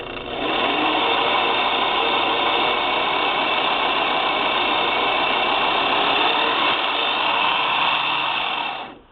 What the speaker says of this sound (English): when your bobbin is full, the bobbin winder will disengage